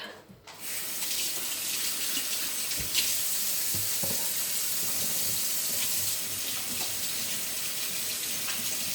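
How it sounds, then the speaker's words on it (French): A kitchen tap runs steadily while hands are washed during vegan chocolate matcha cake preparation, a continuous close hiss of flowing water that starts after a brief pause and carries on alone. "donc je vais me laver les mains quand même avant de vous présenter mon chef-d'œuvre"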